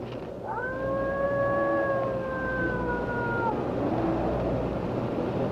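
A wolf howls in a forest: one long, rising and slowly falling howl lasting about three seconds, clear and fairly near over a noisy outdoor background.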